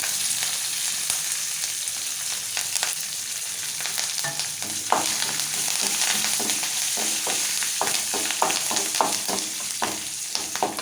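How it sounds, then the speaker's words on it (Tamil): Mustard seeds, dried chillies and curry leaves crackle and sizzle in hot oil as a tempering for kara kozhukattai, with rapid popping bursts and occasional stirring scrapes, close-up and without talk. "கடுகு நல்லா பொரிஞ்சு வருது. இதை நம்ம காஞ்ச வத்தல், கருவேப்பிலை எல்லாமே போட்டு தாளிச்சிக்கலாம்."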